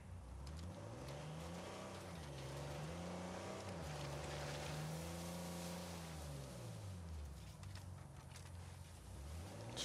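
A motorboat is driven in Uncharted 4, its engine droning steadily and rising and falling in pitch as the throttle changes, with water splashing and rushing around the hull throughout.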